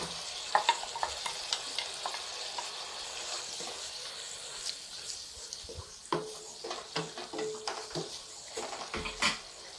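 Meat frying in a pan, with steady sizzling and crackle plus scattered stirring scrapes and utensil knocks that grow busier toward the end, heard close and without talk.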